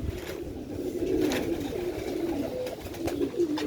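A strong pigeon, a rooftop silver-breed bird, coos in low, rolling repeated calls close by, steady and fairly loud with no talk over it.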